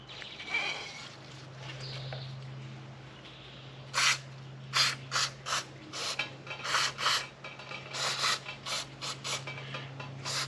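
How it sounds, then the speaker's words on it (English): Repeated short bursts of brake cleaner spray hiss, loud and close, in quick uneven pulses over a steady low hum, cleaning a Harley-Davidson touring front brake. "spray this out real good with some brake cleaner"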